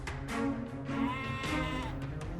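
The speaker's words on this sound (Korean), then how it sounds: "염소가 가난한 아이들을 위해 울었던 방법." A goat bleats as a storybook sound effect in a children's fairy tale, with several drawn-out wavering cries in a row, loud and close, with no talking over them.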